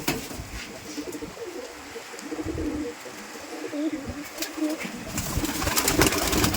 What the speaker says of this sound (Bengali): তো চলুন আমরা কবিতরগুলো দেখবো